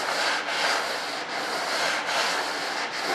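A long sanding block rasps back and forth across an RC jet model airframe, several steady rubbing strokes with brief dips between them, close and fairly quiet.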